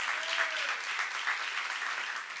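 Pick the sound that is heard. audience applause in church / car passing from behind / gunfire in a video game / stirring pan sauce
audience applause in church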